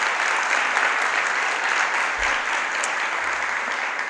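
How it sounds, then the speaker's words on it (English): Steady applause from the audience at a 2019 LGBTQ+ convocation ceremony honoring family and loved ones, a dense sustained clatter of many hands clapping at even strength throughout. "I'd like a round of applause for all of the family and loved ones in attendance tonight"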